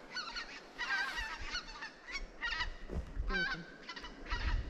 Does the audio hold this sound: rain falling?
no